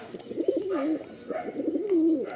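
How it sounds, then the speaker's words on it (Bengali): Madrasi pigeons in a loft cooing in two rolling, warbling phrases, close and clear, with faint background noise. "বর্ষাকালে এখন সব রেস্টে রয়েছে পায়রা"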